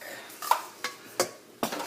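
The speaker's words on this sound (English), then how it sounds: "I'm going to grab my wok" A metal wok is grabbed and set down on a stovetop, giving four sharp metallic clanks and knocks spaced about a third of a second apart, close and fairly loud with no talking.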